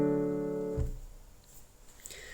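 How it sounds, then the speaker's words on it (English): A sustained musical chord of several notes sounding together rings clearly for under a second, then is cut off abruptly, leaving quiet background. "and a chord would sound like this."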